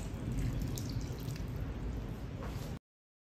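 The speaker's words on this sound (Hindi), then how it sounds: "इसमें ऐड करेंगे 1/4 ग्लास पानी" About a quarter cup of water poured into a pan of tamarind and jaggery for chutney, giving a steady close splashing pour that stops abruptly.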